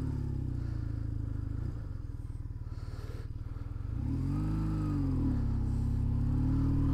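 A BMW R1150GS boxer-twin motorcycle on a test ride idles with a steady throb, then the revs rise and fall as it pulls away, the engine loud and close with no talking.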